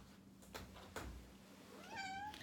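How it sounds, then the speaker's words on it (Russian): A house cat meows indoors, wanting to be let out: a few soft calls and then a clearer, longer meow near the end, fairly faint over quiet room noise. "У меня кошка хочет вырваться наружу."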